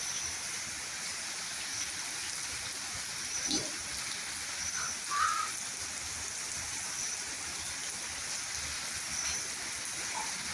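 Steady, faint hiss of rain falling continuously, with a couple of brief soft knocks partway through.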